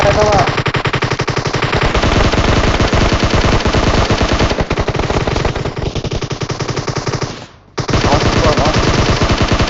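Loud, rapid automatic gunfire from the video game PUBG rattles in long continuous bursts, briefly dropping out near the end before the shooting resumes.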